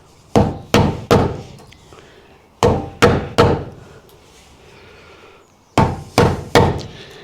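A hammer strikes a chisel to cut a door hinge recess in wood, sounding as three sets of three sharp, loud, evenly spaced knocks separated by short pauses.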